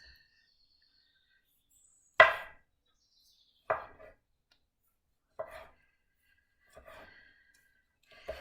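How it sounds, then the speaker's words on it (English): Knife slicing soft tomatoes on a board for summer crostini: a handful of separate cutting strokes, each a brief crisp thunk with a short tail, spaced a second or so apart, fairly faint and close with no talk. "I'm going to slice up my tomatoes."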